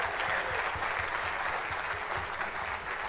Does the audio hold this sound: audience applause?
yes